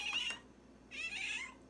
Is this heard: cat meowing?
yes